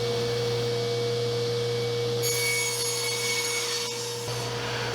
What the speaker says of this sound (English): Using a crosscut sled, I'll square up one end and then cut to a final length.